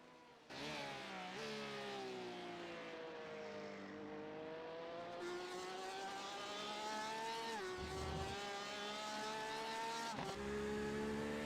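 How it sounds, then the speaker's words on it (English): Porsche RSR race car in a racing game on the Daytona road course, its engine screaming loud and close, climbing in pitch through the revs and dropping sharply at each gear change, several shifts in a row. "You gotta love the sound of the Porsche RSR though."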